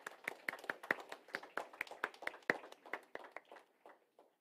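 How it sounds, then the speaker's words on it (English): Sparse clapping from a small audience at a Salesforce developer group meetup in Bengaluru, a couple of dozen distinct claps in an uneven rhythm, fading out toward the end. "please give him a big round of applause"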